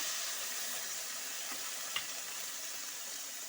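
Onion paste, dry chilli paste and ginger paste fry in a pan for a pointed gourd (potol) dish, giving a steady, even sizzle and hiss throughout with no talking.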